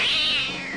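A kitten meows once, a loud, close, high-pitched drawn-out cry lasting under a second, heard alone without talking.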